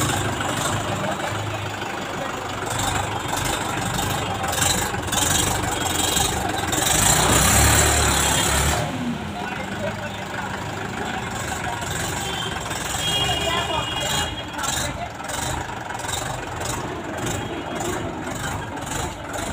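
A Mahindra 585 tractor engine idles with a steady low rumble, running continuously with a brief louder surge midway, while voices talk over it outdoors.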